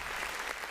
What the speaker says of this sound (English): Marv, clap.